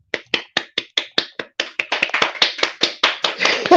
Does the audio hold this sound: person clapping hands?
yes